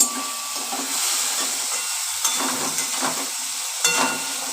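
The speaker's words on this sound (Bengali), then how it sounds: "এবার একটু নাড়াচাড়া করছি তেলের মধ্যে একটু আদা বাটাটা দিয়ে দিচ্ছি" Ginger paste fried in hot oil in a pan for a fish curry, giving a bright continuous sizzle with a few louder crackles and soft stirring scrapes, close and alone.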